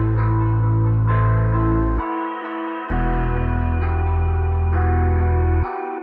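A reverb-soaked percussion loop layered over a sustained melodic music sample in an FL Studio beat, building an airy atmosphere; the low end drops out briefly, then returns for a full, loud passage.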